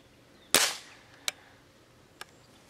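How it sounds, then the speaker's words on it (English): A .22 caliber air rifle fires at a laptop: one sharp crack with a short ringing tail, then two fainter, snappier impact ticks spaced a second or so apart, in a quiet room. "Let's see if the 22 caliber air rifle will penetrate the laptop."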